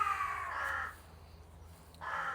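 Crows cawing outdoors, a loud drawn-out call followed by a pause and then a second call starting, with no talk over them.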